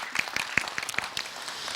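An audience at a Buddhist Q&A session claps, a short burst of close, sharp handclaps in an uneven rhythm that thins out after about a second.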